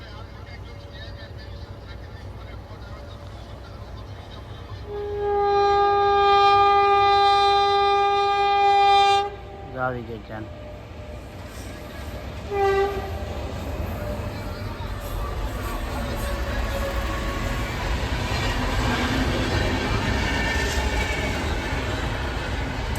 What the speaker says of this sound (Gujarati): જો તમને ટ્રેનના અવાજ સંભળાતો હોય આ ત્રીજી ટ્રેન કન્ટિન્યુ એક જ અત્યારે આવે છે